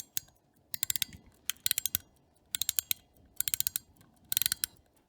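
Gold quarter repeater pocket watch being wound by its crown: close, crisp metallic ratcheting clicks in quick bursts of four or five, repeated about every second with short pauses, fairly quiet and alone.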